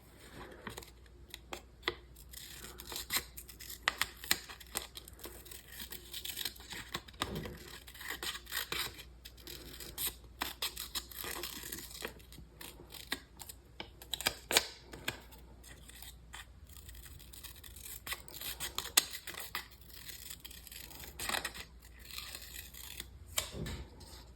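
Scissors snip and trim paper for a small collage in a bullet journal, with repeated crisp cuts and rustling paper handling up close at a quiet level, without speech.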